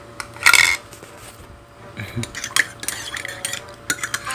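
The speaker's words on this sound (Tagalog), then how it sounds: "Yun, halu-haluin na lang natin" A metal utensil stirring and clinking against a cup or bowl, with a sharp clatter near the start followed by lighter scattered taps and scrapes.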